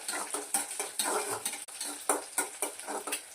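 A utensil stirs and scrapes egg in a hot oiled pan for egg noodles, giving quick rhythmic metallic taps and light clatter, close and moderately quiet, with a faint sizzle underneath.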